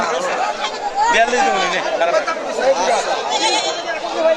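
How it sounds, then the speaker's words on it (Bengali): Goats bleat over a steady crowd murmur at the crowded Chatmohar rail-bazaar market for local goats, with someone talking close by throughout. "দেখেন ছাগল আর ছাগল এটা চাটমোহর রেল বাজার সেই ঐতিহাসিক দেশি ছাগলের হাট"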